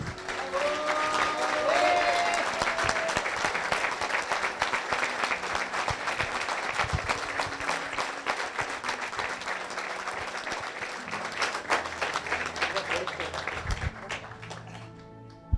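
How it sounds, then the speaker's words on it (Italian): Sustained audience applause fills an evening honors ceremony, dense steady clapping that continues for about fifteen seconds before tapering off. "io vi chiederei un applauso per Roberto"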